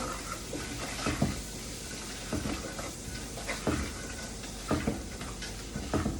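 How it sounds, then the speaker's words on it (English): Parmesan rinds stirred into a simmering pot of Tuscan beans, with a soft continuous sizzle under repeated scraping and clinking strokes of the spoon, close by and with no talking. "I'm going to put the Parmesan rinds in now as well. And get all that stirred together."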